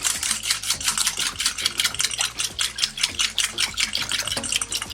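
Whisk beating orange juice and heavy cream together in a bowl, a fast, steady clattering rhythm of close, bright taps with no pauses and no talk.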